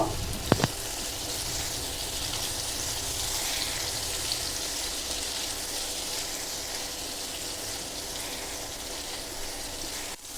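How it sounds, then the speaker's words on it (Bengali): Potato, eggplant, banana stem and green chilli fry with a little salt in a pan over a medium-high gas flame, giving a steady, dense sizzle that runs unbroken through the whole clip, with a brief clatter near the start. "আর সাথে সামান্য কিছুটা নুন দিয়ে গ্যাসের ফ্লেমটাকে মিডিয়াম টু হাইতে করে তিন থেকে চার মিনিটের জন্য সবজিগুলোকে একটু ভেজে নেব"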